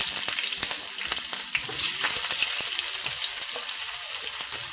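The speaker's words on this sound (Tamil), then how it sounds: "இதோட கொஞ்சம் வெங்காயம் சேர்க்குறேன்." Onion added to hot oil with mustard and fennel seeds sizzles and crackles steadily, with sharp popping spits and light stirring scrapes, close and moderately loud, no voices.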